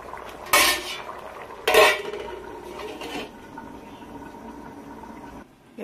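Pots and a metal lid clatter twice near by as a lid is set over a cooking pot of potatoes, the second knock loudest, followed by softer clinks and a quiet kitchen bed.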